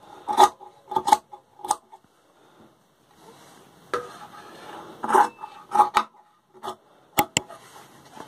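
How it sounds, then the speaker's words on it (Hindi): Scissors cut fabric for a homemade cloth face mask, making close, sharp snips in short clusters with quiet pauses between, and no talking. "कटिंग कर लीजिए"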